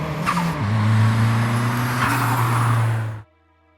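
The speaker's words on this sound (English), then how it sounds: "The engine was deafening as the car swerved towards us." A car engine roaring loud and close as the car swerves, with a steady low drone and a shift in pitch partway through, then cutting off abruptly.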